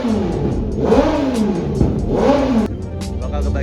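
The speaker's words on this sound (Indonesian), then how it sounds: "Ini lagi pada manas-manasin." Motorcycles at a track day, including an MV Agusta F3 675, warming up their engines: steady engine drone with two rising and falling rev swells, close and loud throughout.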